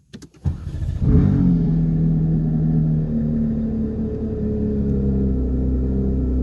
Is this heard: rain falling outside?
no